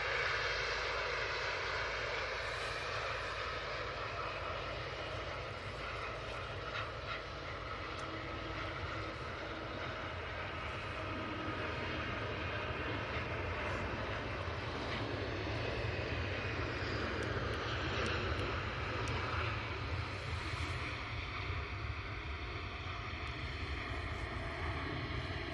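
EasyJet jet airliner engines spooling up at an airport, a steady broadband roar heard from a distance at moderate level, continuous throughout with slowly shifting tones and no talk.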